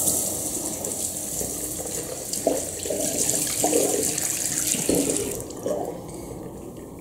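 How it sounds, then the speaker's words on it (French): Tap water runs steadily into a sink while a face is rinsed during an evening skincare routine, with a continuous close gush broken by irregular splashes as hands scoop and splash the water. "Donc là, je rince."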